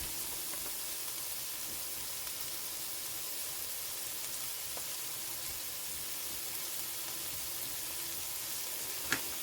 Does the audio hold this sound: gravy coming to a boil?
yes